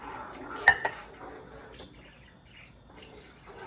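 A utensil stirs tomato sauce and ground beef in a pan for pasta, with a couple of quick metallic clinks early on and then soft, faint scraping.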